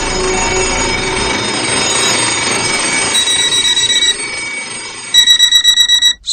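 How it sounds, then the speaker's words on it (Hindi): A school bell rings on and off, a tonal metallic ring with a rattling pulse that breaks into quick repeated bursts near the end, loud and close with no voices. "पीछे स्कूल बेल बजे जा रही थी"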